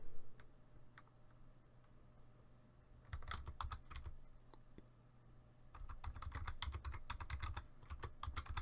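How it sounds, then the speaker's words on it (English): Bursts of typing on a computer keyboard while entering text in a digital card-design program, quick clicky keystrokes in two clusters with a low steady hum underneath and no voice. "type my blog name"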